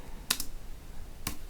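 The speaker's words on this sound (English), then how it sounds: "then you can start typing the name out and it will quickly find it for you" Keys are tapped on a computer keyboard to enter a player's name into a fantasy rugby league team-picker search filter, with two short bursts of clicks separated by a pause over a faint background hum.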